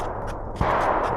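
A gunshot at an outdoor range with a steel target, a single sharp loud report partway through and ringing noise after, over a steady background.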